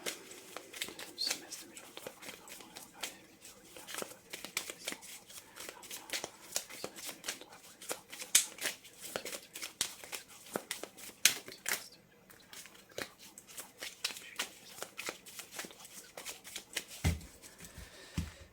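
Tarot cards shuffled by hand in a steady run of crisp, riffling flutters, close and fairly quiet, continuing with brief pauses and no voice.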